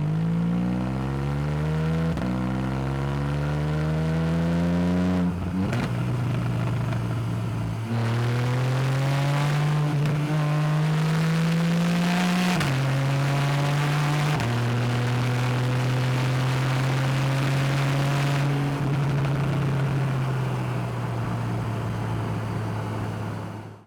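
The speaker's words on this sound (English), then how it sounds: "the boxer 6-cylinder naturally aspirated engine that sounds absolutely incredible, and it sounds like this." A Porsche 911 991.1 Carrera 4S with its naturally aspirated boxer six-cylinder engine accelerates hard through several gears, loud and close, each rising howl broken by a quick shift, with no talking.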